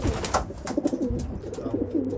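Racing pigeon young cocks in their loft boxes give repeated low throaty coos in short rolling phrases, close by and overlapping, with soft shuffling around them.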